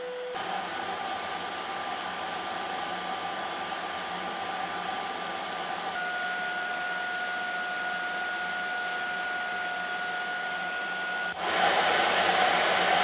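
Cordless stick vacuums, a Xiaomi Roidmi X30 Pro and a Dyson V11, whine steadily, one after another with shifts in pitch, and the last starts louder and breathier; continuous, close, no talking.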